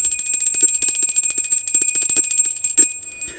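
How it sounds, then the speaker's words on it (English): A bell rung rapidly and repeatedly during a live tarot reading stream, a bright, sustained metallic trill with steady ringing tones, loud and close, stopping abruptly near the end. "So we're going to ring the bell."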